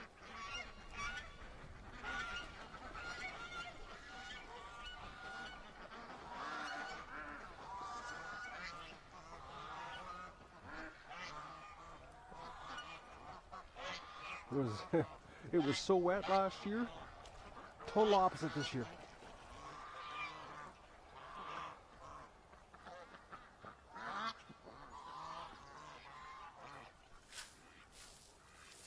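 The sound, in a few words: Canada geese honking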